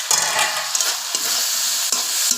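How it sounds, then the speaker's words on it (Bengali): Potato and bean curry being stirred in a pan: a steady bright sizzle with several scraping strokes of the spoon against the metal, close and continuous. "এখন আর কিছুটা এভাবে নাড়াচাড়া করে নেব।"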